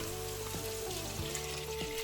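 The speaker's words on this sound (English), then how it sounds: "Then you'll add in your celery and carrots and cook for about 5 minutes until softened." Celery and carrots sauté in a soup pot, a soft steady sizzle with faint stirring scrapes, quiet and close with no talk.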